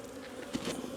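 Honey bees buzz steadily around a hive box set on another hive during a colony combine, a dense close swarm drone that swells slightly midway and carries on without pause.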